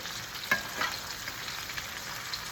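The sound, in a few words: beef sausages frying with onions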